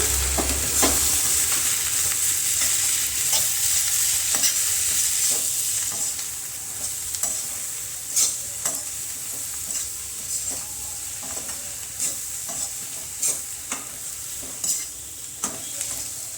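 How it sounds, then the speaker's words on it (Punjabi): Spices for dhaba-style paneer bhurji (turmeric, black pepper, Kashmiri red chilli) sizzle steadily in a pan while a spoon scrapes and stirs, with sharp clicks of the utensil against the metal. No one speaks. "ਮਸਾਲੇ ਨੂੰ ਮਿਕਸ ਕਰ ਦਵਾਂਗੇ ਆਪਾਂ"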